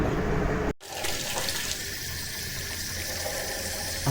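Water poured from a hose or tap over a sack of sprouting wheat grown as chicken feed, a strong steady rushing gush that breaks off briefly, then keeps flowing evenly.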